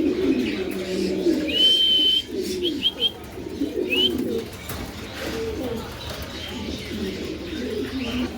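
Round-bodied pet pigeons coo in low, throaty pulses close by, repeating through the whole stretch, with a few brief higher chirps from other birds mixed in early on.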